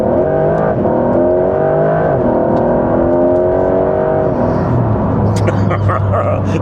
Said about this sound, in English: It is brilliant for overtaking, which hopefully I'll demonstrate very shortly.